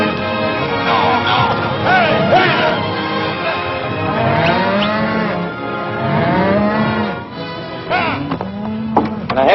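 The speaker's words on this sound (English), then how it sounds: "There's your cattle." A herd of cattle lowing in a Western ranch setting: several overlapping moos, some near and some farther off, rise and fall throughout with faint voices mixed underneath.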